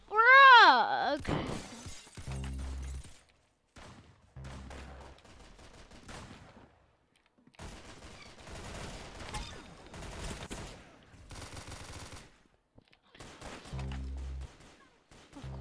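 Gunfire in the Roblox game Arsenal comes in several sharp bursts and single shots, loud and close, separated by short gaps. A voice talks between them.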